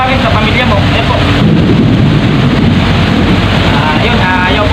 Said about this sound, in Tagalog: tuloy-tuloy ang ulan na hindi lang po basta ulan, kundi talagang napakalakas